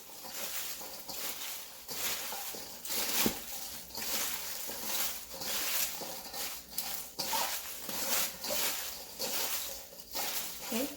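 Salt being mixed by hand into pickled beef tendons with cabbage, with repeated wet, soft rustling and scraping against a bowl in an uneven rhythm, close and moderately loud.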